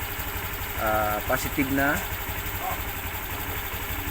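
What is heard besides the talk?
Honda Click V2 motorcycle engine idling with battery disconnected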